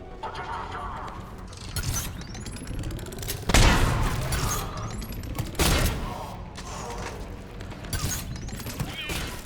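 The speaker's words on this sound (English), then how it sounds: "We're getting a lot of mortar fire." Mortar fire and combat in the Mass Effect 3 video game: heavy booming explosions at intervals among a busy mix of gunfire and mechanical clatter, loud and close, with voices talking over it.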